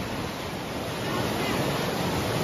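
Ingleton Waterfall on the Yorkshire trail pours in a steady, loud broadband rush of falling water, close by and unbroken, with no voices over it.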